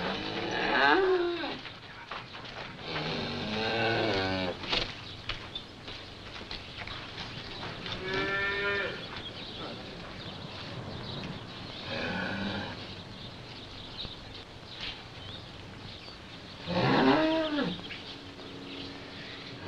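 Cattle on a farm: several loud, drawn-out moos spaced through the stretch, some close and some farther off, with quieter background noise between them.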